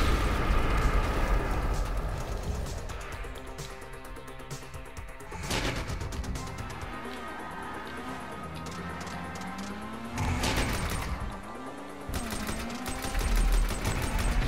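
Gunfire and explosions from a vehicular combat adversary mode in Grand Theft Auto V Online: dense bursts of shots and booming blasts run throughout, loud and continuous, with sharp peaks near the middle and end and no talk.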